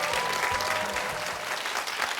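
An audience at a high school quiz show competition applauds steadily, a dense even patter of many hands clapping throughout with a faint murmur underneath.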